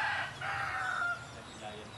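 A rooster crows once in a drawn-out call, fairly close, with a second fainter crow near the end over low background noise.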